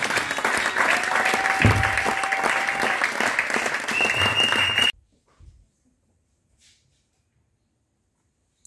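An audience at a church seminar applauds loudly and steadily for about five seconds, then the clapping stops abruptly, leaving near silence with a few faint sounds.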